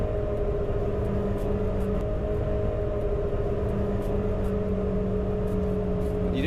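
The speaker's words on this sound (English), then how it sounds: "We got 4 of these 300 horsepower supercharged Yamaha jet ski engines and its own bespoke water jets." A boat driven by four supercharged 300 hp Yamaha jet ski engines and custom water jets holds a loud, steady droning roar with layered engine tones throughout.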